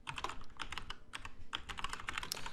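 Typing on a computer keyboard: a rapid, continuous run of light key clicks with brief gaps, fairly faint and close, with no speech.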